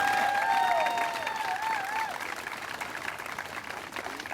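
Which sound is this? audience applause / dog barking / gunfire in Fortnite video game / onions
audience applause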